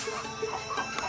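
Laying hens clucking on an organic farm on Koh Samui, Thailand, a steady run of soft, close clucks with no voices over them.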